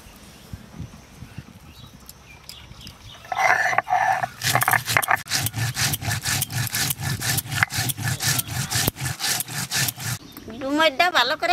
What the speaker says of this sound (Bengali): জিরাটা বেটে নেব